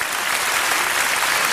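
Steady, dense applause from a cabaret audience after a skating act, filling the whole moment at an even, sustained level with no pauses and no voices over it.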